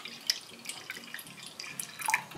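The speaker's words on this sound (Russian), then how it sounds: "Ставим сотейник и вливаем 300 мл молока. К нему еще столько же воды." Milk and then water poured into a saucepan in a home kitchen, heard as faint, scattered liquid trickles and drips at close range, with no speech.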